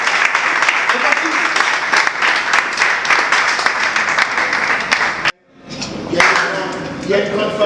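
Loud, dense applause from a ceremony audience welcoming presidential candidates, steady for about five seconds, then a sudden drop to near silence before the clapping and crowd noise swell back up.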